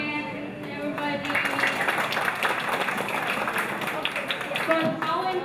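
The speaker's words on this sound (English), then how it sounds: "Let's give the applause again" Audience applause at a restaurant certification ceremony, a broad wash of clapping that runs steadily from start to finish at a moderate level, with no words spoken over it.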